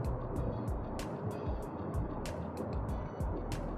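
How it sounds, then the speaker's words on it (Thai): Steady tire roar from an MG VS HEV hybrid SUV at 100 km/h on the road, a continuous broadband rumble heard from inside the cabin with no wind noise standing out. "ความเร็วร้อย เสียงลมยังไม่มีนะตามเสาเอ แต่จะได้ยินเสียงของ ยางบนถนนเนี่ยอันนี้ชัดเจน"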